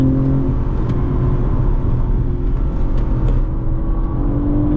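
BMW M3 on the Indianapolis Motor Speedway road course during a performance driving school, its engine droning loud and steady under throttle from inside the car, with faint ticks and rattles over the continuous roar.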